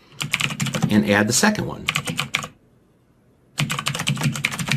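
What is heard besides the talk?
typing on a computer keyboard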